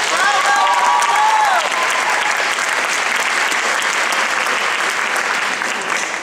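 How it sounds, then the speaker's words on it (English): Audience applause at a high school winter concert fills the room, a dense continuous clapping from a large crowd with a few whistles and cheers early on, holding steady throughout. "Please give them another big round of applause."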